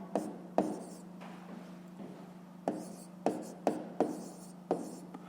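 A pen scratches on paper in short strokes with a few sharper taps, quiet and close, over a steady low hum.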